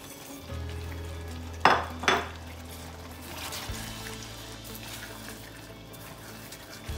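Rice for a mixed chicken and seafood paella being stirred in the pan, with steady sizzling, a low burner hum, and two sharp scraping strokes of the spoon early on, close and clear.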